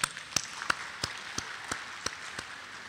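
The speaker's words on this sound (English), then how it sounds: "Let's give all of us a big round of applause." Sparse, faint clapping at a university awards ceremony: a handful of sharp, separate claps spaced unevenly over a low background, with no full burst of applause.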